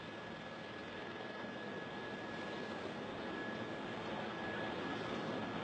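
Aircraft landing and slowing down on a runway with its tires burning out, heard as a steady, loud, continuous engine roar and rushing noise that holds without a break.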